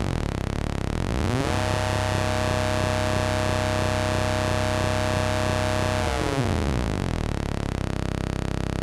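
Linear FM synthesis tone from sine oscillators patched in VCV Rack, swelling from a sweep into a dense, harsh, buzzing stack of harmonics that holds steady for several seconds and then sweeps away, loud and alone with no talk.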